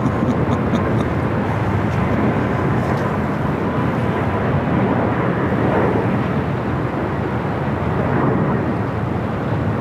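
A fixed-wing airplane at Los Angeles LAX airport roars past in a loud, continuous broadband rumble that holds steady throughout without any talk.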